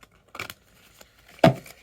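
A brand-new deck of oracle cards is shuffled, giving two brief papery riffles close by, the second louder and sharper, with quiet pauses around them.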